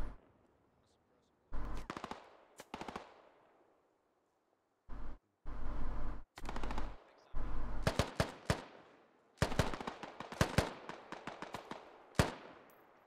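Bursts of gunfire in the video game Operation: Black Ice, loud and close, arriving in irregular rapid volleys separated by short silences.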